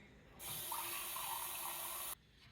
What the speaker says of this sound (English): we're going to add in a little water